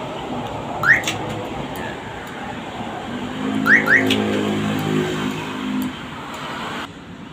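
An electronic car alarm being tested, powered through an adapter, sounds in short chirping bursts, then a sustained warbling tone for a few seconds before cutting off; no talking.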